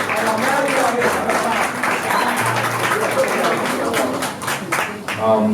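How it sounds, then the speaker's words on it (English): A steady wash of applause from a panel audience, dense and continuous with scattered sharper claps, fairly loud throughout. "Give a round of applause."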